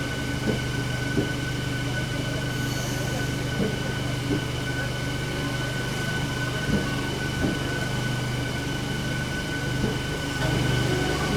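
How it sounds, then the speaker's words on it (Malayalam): A Shoranur–Kannur MEMU electric train pulls into Thalassery station, heard from on board as a steady low hum and rumble with faint clicks of wheels over track joints. "അങ്ങനെ 6632 ഷൊർണൂർ കണ്ണൂർ മെമു തലശ്ശേരിയിലേക്ക് എത്തിയിരിക്കുകയാണ്"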